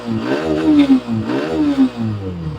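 A Hero Xtreme 125R motorcycle engine revs up and down twice in close succession, its pitch rising and falling with each throttle blip, loud and close with no talk over it.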